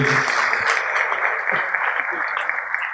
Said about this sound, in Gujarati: એકવાર ખૂબ જોરદાર તાળીઓ કવિ શ્રી મુકેશ જોશીને નામ હોવી જોઈએ